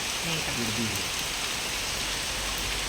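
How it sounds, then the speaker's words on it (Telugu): Heavy late-night rain pours in a steady, dense hiss that fills the whole stretch without letup. "వర్షం బీభత్సమైన వర్షం అనమాట."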